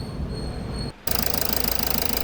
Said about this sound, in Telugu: ఇంజన్ స్టార్ట్ అయింది.